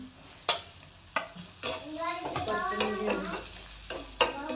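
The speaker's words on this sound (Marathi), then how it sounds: "हे मसाले चांगले फ्राय करून घेऊन" Spices and masala for a mutton fry sizzling in a pan: onion-garlic masala, homemade black chili and Byadgi chili powder over fried tomatoes, with repeated sharp spatula scrapes and stirs over a bubbling crackle.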